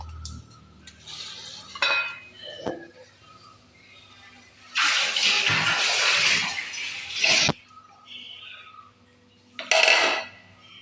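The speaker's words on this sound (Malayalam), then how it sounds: "നമുക്കിത് വെള്ളം ഒഴിച്ച് ഒന്ന് കലക്കിയെടുക്കാം." Water is poured into a bowl of flour and a spoon stirs it into a thick snack batter. Close clinks and scrapes come in short bursts, with a long loud splashing, sloshing stretch midway and another brief burst near the end.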